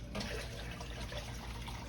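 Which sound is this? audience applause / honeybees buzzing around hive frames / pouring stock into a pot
pouring stock into a pot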